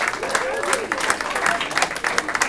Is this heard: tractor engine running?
no